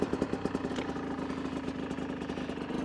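Chinese dirt bike engine running, a rapid, even pulsing thrum at steady revs, close and fairly quiet, with a few stronger beats at the start.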